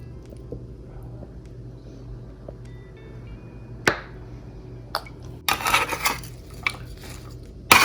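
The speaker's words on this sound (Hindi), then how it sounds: "अब इस तरह से हम इसको मिक्स करेंगे ताकि मसाला हमारा तह तक चला जाए।" Baked okra being stirred with oil and spices in a dish: sparse clinks and scrapes of a utensil against the dish, a sharp knock partway through, and a burst of busier scraping near the end, all close and without talk.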